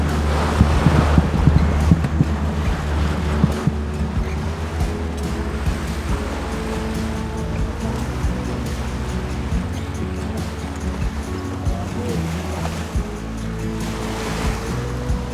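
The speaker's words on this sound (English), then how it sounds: "We're just trying to motor sail, but we're outpacing the wind, especially with the Gulf Stream giving us a lift." A sailboat motor sailing across open ocean in the Gulf Stream, with a steady engine drone beneath continuous rushing waves and wash against the hull, and light wind buffeting the microphone.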